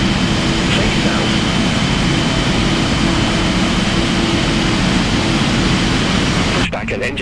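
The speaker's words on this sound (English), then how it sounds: "Request pushback and engine start." A Boeing 777F's jet engines start during pushback from a Heathrow gate in a flight simulator game, giving a loud, steady broadband roar that holds throughout and then cuts off abruptly just before the end.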